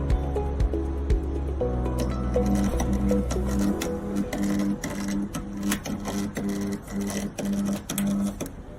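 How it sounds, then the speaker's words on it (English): A portable hand-held seam welder runs in a fast rhythmic pulsing, a mechanical stuttering drone like a sewing machine that goes on steadily near at hand after a brief lower hum. "Now you can start seam welding."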